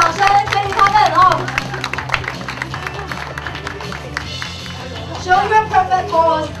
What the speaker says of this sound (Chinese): 热烈掌声给予他们哦